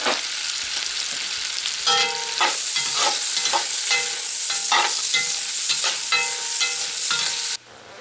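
Yellow onions frying in melted butter, a loud continuous sizzle close by with repeated scraping stirs of a spoon through the pan, cutting off abruptly near the end.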